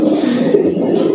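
A male breeding pigeon gives a single close, loud, low coo that lasts about a second, with no other sounds around it.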